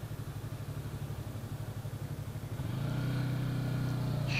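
A Yamaha R3 motorcycle engine idles with a steady low putter, then the revs rise around the midpoint into a louder, sustained higher drone, close by.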